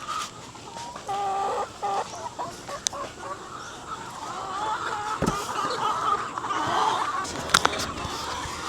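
Farm chickens in the Philippines cluck and murmur while pecking at feed mixed with carrots, garlic and guyabano leaves, a busy mid-distance chorus with scattered sharp clucks and light handling noise.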